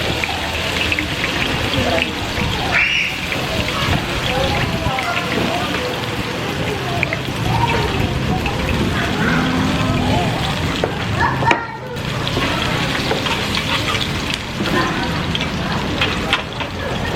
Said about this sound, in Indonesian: Ini kita udah bakar si dagingnya